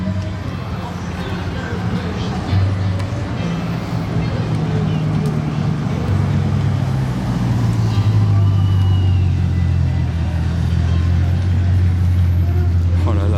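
Two Bugatti Chiron supercars, one black and one white, arrive in convoy with a 6x6 behind them in Juan-les-Pins. A steady, loud low engine rumble swells and shifts as the vehicles roll in close by, with a continuous drone throughout.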